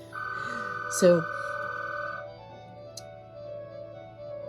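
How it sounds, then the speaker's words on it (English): A telephone ringing indoors: one steady electronic ring of about two seconds, moderately loud, with someone talking over it. "Sorry, that's the phone, but I don't have to get it as far as I know."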